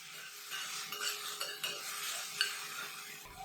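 Okra (bendekayi) frying in a pan for a simple palya, a faint soft sizzle with occasional light stirs and utensil taps against the pan.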